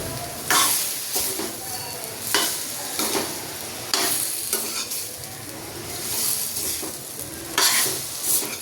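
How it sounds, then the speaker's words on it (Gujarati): Sponge gourd (galka) being stirred into a sizzling frying pan for a Kathiyawadi curry, with repeated scraping strokes of a spoon roughly every second over a steady background hiss of frying, close and clear without talk. "ગલકાને મસ્ત મિક્સ કરી દઈશું।"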